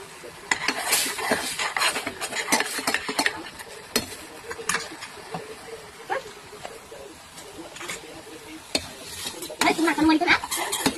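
Soya chunk curry (soya vadi shaak) stirred in a pan, a spoon scraping and clinking against the metal in quick irregular strokes over a faint sizzle of frying, with a voice talking now and then.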